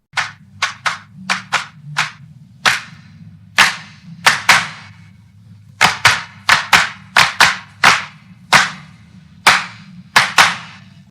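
Overdubbed hand claps on a song, sharp, close and loud, in an irregular syncopated pattern of single and grouped claps over a faint low backing.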